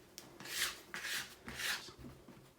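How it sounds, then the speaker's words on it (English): Metal dough scraper shimmied under sticky bread dough on a floured table, giving three soft rasping scrapes in a steady rhythm, close and fairly quiet, with no talking. "use the flat edge of your scraper, and just shimmy it underneath"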